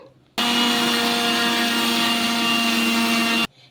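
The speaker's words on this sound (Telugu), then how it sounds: "ఇప్పుడు దీన్ని మెత్తగా పౌడర్ లాగా అయితే మిక్సీ పట్టేసుకుందాము" A mixer grinder grinding semolina roars at full speed for about three seconds, a loud steady motor whir that starts and stops abruptly, with no talking.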